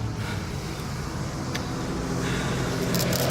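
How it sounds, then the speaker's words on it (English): Loud school bus rumbles past nearby, a steady low engine drone with road noise holding throughout, no talk. "Loud ass school bus."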